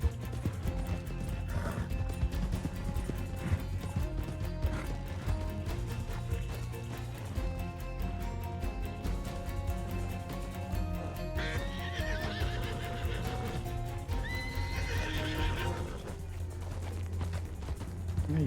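An agitated horse in a video game whinnies repeatedly over clattering hooves and a low rumble, loud and close, the neighs rising shrilly several times.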